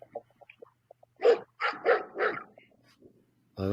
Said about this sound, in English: Oh, there goes some more dogs.